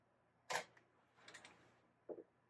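A camera shutter fires with a sharp mechanical snap, followed by a softer double click and then another quick snap, all faint against a quiet room with no talking.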